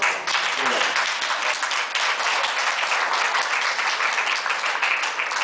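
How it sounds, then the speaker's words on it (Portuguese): An audience at a university lecture breaks into loud, dense applause, many hands clapping steadily and close for several seconds with a little voice mixed in at the start. "as palmas"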